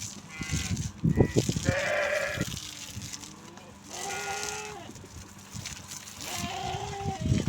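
Sheep bleat three times in turn during a creolin dip bath, each call drawn out and quavering, close by and fairly loud over a low rumbling background.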